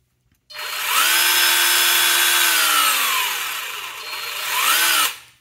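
A Ridgid R86215K 18V half-inch cordless impact wrench runs alone at close range for about four and a half seconds, its loud motor whine rising and falling in pitch as the variable-speed trigger is eased off and squeezed again.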